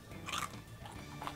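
Crunchy chicharron pork rinds being bitten at a Filipino chicharron factory in Carcar, Cebu: a brief close crunch followed by softer chewing, set against steady background noise.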